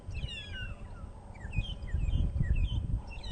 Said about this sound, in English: it's long-tailed shrikes that you can hear calling, that sort of almost like a strange whistling sound.